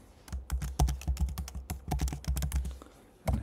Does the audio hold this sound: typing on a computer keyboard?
yes